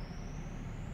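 A city bus on a Kensington street releases its air brakes, a sustained high pressurized hiss that slowly rises in pitch over a rumbling engine and traffic noise.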